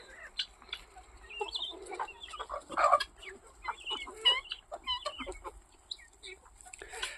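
Young hens clucking close by, a busy run of short overlapping clucks and chirpy calls with occasional louder squawks, no talking.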